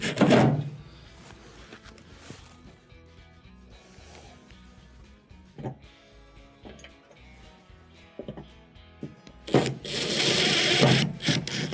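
Screws are driven back into the bottom of a GE washer, giving bursts of clicking, ratcheting mechanical noise at the start and a louder, longer grinding run near the end, with quieter handling between.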